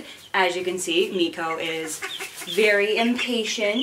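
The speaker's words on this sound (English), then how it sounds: "if you hear crazy peeping and squawking in the background" Chickens and ducklings cluck, peep and squawk throughout as a person talks over them nearby, the bird calls steady and busy underneath the speech.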